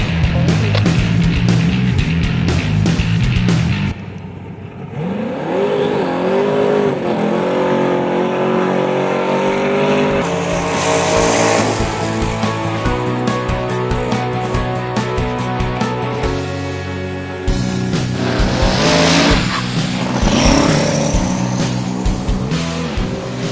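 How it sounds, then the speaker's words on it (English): A Ford Mustang drag racing at Interlake Dragway, loud engine revving and roaring through rising gear changes, with repeated accelerating pulls and a second burst of full-throttle noise later on, close and continuous. "doing a little bit of testing with the Mustang, see how fast we can go"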